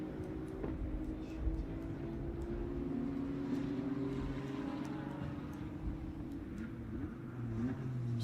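Ferrari Challenge race car circling the Circuit of the Americas in qualifying, a steady engine drone with sustained gear-pitch harmonics, moderately distant and continuous throughout, with faint commentary-like voices underneath.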